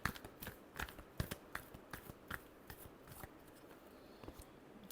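Tarot cards being shuffled by hand, a quiet run of papery riffles and soft flicks in quick uneven bursts, close and faint, with no speech.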